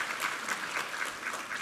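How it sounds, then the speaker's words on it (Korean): A church congregation at a Sunday worship service claps together, a dense, steady wash of applause from many hands filling the room. "우리 하나님께 감사와 영광의 박수 올려드리겠습니다"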